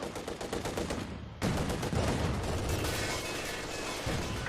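Incendiary rounds fired in a video game battle, a rapid automatic burst followed by a dense, sustained stream of loud gunfire and rumbling impacts.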